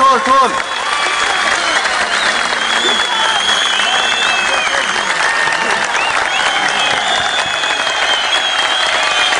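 Sustained applause from an audience at a Pashto poetry gathering, dense clapping filling the hall at steady loudness with crowd noise mixed in, running throughout without a break.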